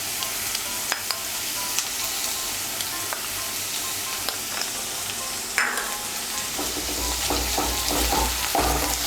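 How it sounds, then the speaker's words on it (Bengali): Ginger paste stirred into onion and garlic paste frying in a pan for kakrol (bitter gourd) curry, giving a steady sizzle with repeated scraping strokes and a few sharp utensil clicks, growing slightly louder toward the end, with no talking. "আদা বাটাটাও মিশিয়ে নেব।"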